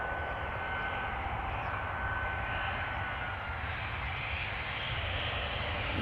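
An ITA Airways airliner at Amsterdam Schiphol Airport gives off a constant, broad engine roar, steady and moderately distant, filling the whole stretch without speech.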